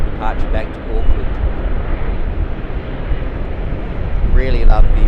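A Boeing 777-300ER in all-black livery departs Sydney's runway 25 with a loud, steady roar of jet engines that fills the air, while a voice briefly speaks over it near the start and again at the end.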